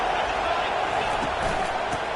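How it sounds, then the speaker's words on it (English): A dense, continuous roar of a large stadium crowd at a college football game, steady and loud with no pauses. "Crowd bringing the energy and noise early."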